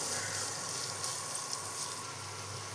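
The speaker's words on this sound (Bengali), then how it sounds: "এই কুচনো পেঁয়াজটা আমি দিয়ে দেবো। পেঁয়াজটা হালকা করে ভেজে নেব।" Chopped onion frying lightly in a pan for egg chowmein, a steady close sizzle with a soft crackling hiss running throughout, no talk.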